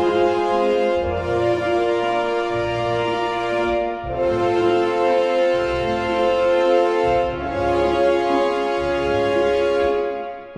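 Full orchestral patch from the Hollywood Orchestrator Adventure Pack's Enchanted Forest set, with sustained harmonic layers over low rhythmic pulses in several phrases, playing loud and continuous with no voices.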